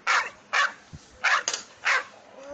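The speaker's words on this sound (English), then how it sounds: "Where is the dog?" A domestic dog barks four times in an even rhythm, the sharp, fairly close barks separated by brief quiet gaps.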